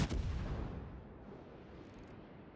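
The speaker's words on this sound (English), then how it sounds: "Graf Spee's broadside!" The German cruiser Graf Spee fires a broadside in World of Warships: one faint, rumbling boom at the start that rolls away and fades over about two seconds.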